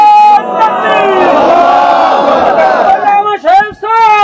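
A large crowd roars a loud, sustained chant in unison at a religious gathering for a Nara-e-Takbeer call, filling the space for about three seconds before breaking off into scattered voices and a fresh surge.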